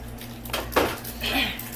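A spoon scrapes and clanks against a pot as pork is mixed with plenty of garlic, giving a brief burst of close metallic stirring sounds.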